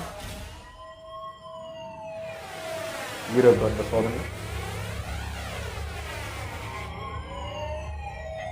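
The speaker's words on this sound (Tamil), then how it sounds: "இது ஒரு எமர்ஜென்சி எவாக்குவேஷன் வார்னிங்." An emergency evacuation warning siren in the One Punch Man anime rises and falls in long wailing sweeps, steady and prominent, with a short burst of talk near the middle.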